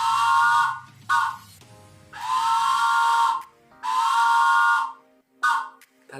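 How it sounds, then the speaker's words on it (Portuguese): A toy train whistle, a handheld instrument, gives several breathy, hooting blasts. Two are short and three are long, with silent gaps between them, and the whistle sounds loud and close. "Vou pegar aqui o meu apito de trem."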